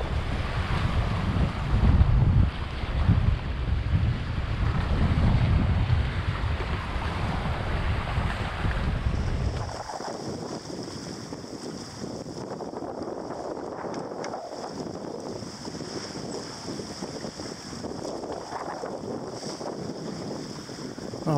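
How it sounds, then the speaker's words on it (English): Strong wind roars over the microphone while a sailboat pushes against a roughly 3-knot current near Beaufort, loud and gusting with water rushing, then easing to a steadier, quieter blustery hiss. "the winds are continuing to increase"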